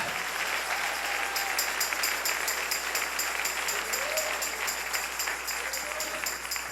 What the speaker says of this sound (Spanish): Dale un aplauso al Rey en esta mañana.